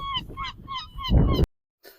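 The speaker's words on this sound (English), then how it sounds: "those seagulls were getting very aggressive" Harsh, repeated honking calls from gulls at a seaside chip stop in Hastings, about five close, loud cries in quick rhythm over a noisy outdoor background, ending in a sharp knock and a pause.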